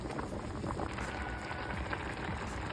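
Water boils in a pot of rice on a stovetop, a steady bubbling and sputtering hiss that is fairly faint and continuous.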